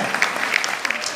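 Congregation applause at a Rote community church gathering, a dense, steady clatter of many hands clapping throughout, fairly close and full, with no talk over it.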